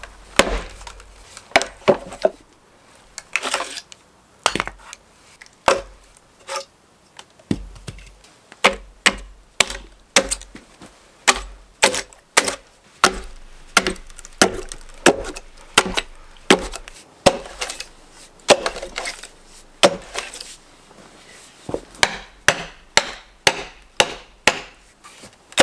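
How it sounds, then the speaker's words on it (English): Twisted ash log split with hand tools and wedges, a long series of sharp, loud wooden chops and knocks at irregular intervals, some fibers splintering between strikes, nothing else over them. "Then I start chopping the wood fibers inside of the crack that hold the log together diagonally because of the twist."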